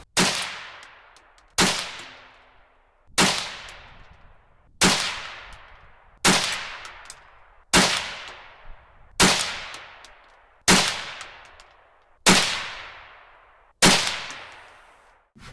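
A CZ 512 or Savage A22 semi-automatic .22 WMR rifle fires Remington 30-grain VMAX rounds outdoors. Ten sharp, loud shots land at a steady pace about one and a half seconds apart, each followed by a short ringing decay, with no talking.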